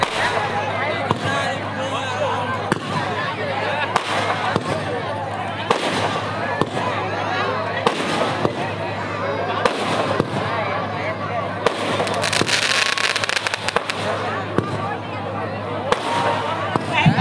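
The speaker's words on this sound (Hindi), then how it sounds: "अभी काफ़ी सारे आतिशबाजी होने वाली है।" Fireworks crackle and pop in rapid, dense bursts at a Ravan Dahan effigy burning for Vijaya Dashami, with a steady roar of a crowd and a continuous low hum underneath.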